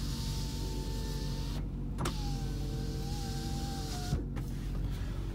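The electric sunroof motor of a Range Rover 4.6 HSE whirs steadily close up inside the cabin, its pitch shifting as the panel travels, with clunks where it stops and starts.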